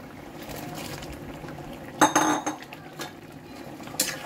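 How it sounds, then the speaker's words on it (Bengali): A lid goes onto a cooking pot, with a metallic clatter and a few clinks of metal against metal. A soft bubbling simmer sits underneath, and a final clank comes at the end, with no talking. "আমি 2 মিনিটের জন্য ঢেকে দিচ্ছি"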